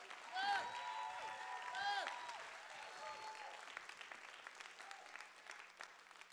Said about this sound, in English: Somebody clap your hands and shout like this is power.